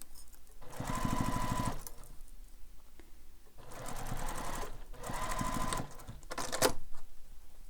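A sewing machine bastes fabric together in three bursts of rapid, even stitching, each a couple of seconds long and separated by short pauses, close and clear.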